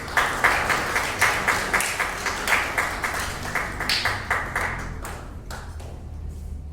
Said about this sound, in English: Please give a big round of applause for the students.